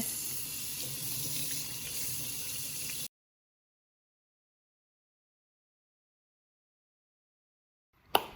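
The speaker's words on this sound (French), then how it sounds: "Donc, je vais mouiller mon linge." Tap water runs from a faucet to wet a cloth for stain cleaning, a steady close splashing flow for about three seconds that cuts off into silence, followed by a brief knock at the end.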